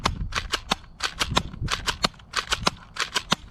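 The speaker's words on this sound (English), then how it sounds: "to fire single shots, you pull the priming handle all the way back, and you can release because there's a return spring. And pull the trigger" A NERF Pro Gel Fire Legion gel blaster fires single shots, about a dozen crisp, loud snapping pops in a quick uneven rhythm, close up with mechanical clacks from the priming handle between them and no talking.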